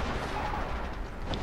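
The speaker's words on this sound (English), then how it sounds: "we have artillery coming in" Steady rumbling barrage of off-map howitzer artillery fire in a Blitzkrieg-era war strategy game, a dense continuous wash of distant booms with no talking.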